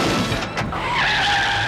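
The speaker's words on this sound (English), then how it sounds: "The way he kind of swerved in between the two cars as well when he hit the brakes." A car in a 1981 James Bond film chase brakes hard and skids, a loud continuous tire squeal with a rising screech that sustains to the end over a rumbling engine.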